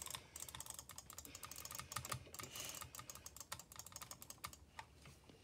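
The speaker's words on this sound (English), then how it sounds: "This is jitter clicking." A computer mouse is jitter-clicked for Minecraft, producing a dense, rapid, steady stream of sharp plastic clicks close up for the whole stretch, with no talking.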